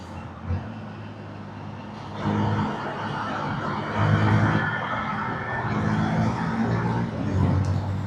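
A 150cc motorcycle engine droning steadily while being ridden, with a low hum and road and wind rush that swell after the first couple of seconds.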